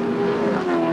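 V8 touring race cars of the 1986 Australian Touring Car Championship accelerate hard through the Symmons Plains circuit, a steady loud engine drone holding throughout with no talk over it.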